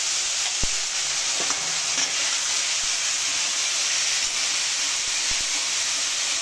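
Onion paste sizzles in hot oil in a pan, a loud, steady, close hiss of frying with a few light clinks of utensils, and no talking.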